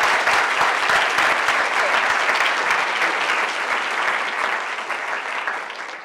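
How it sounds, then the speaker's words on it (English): A lecture-event audience gives a welcoming round of applause, a loud, dense, sustained burst of many hands clapping together that eases slightly as it goes on. "So please, everyone, give a welcoming round of applause"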